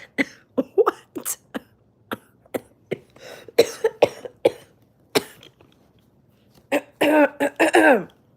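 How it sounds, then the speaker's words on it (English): Repeated coughing in short, sharp bursts, some clustered close together, ending in a couple of longer, rougher coughs; close and fairly loud. "Don't cough at the dogs. Cough in your chest."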